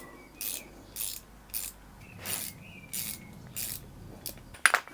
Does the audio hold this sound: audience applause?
no